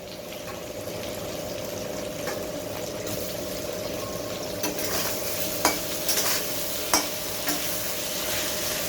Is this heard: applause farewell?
no